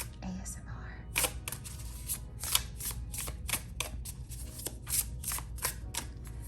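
Tarot cards are shuffled close to the microphone in a steady series of crisp riffling snaps, with a brief murmur of speech at the start.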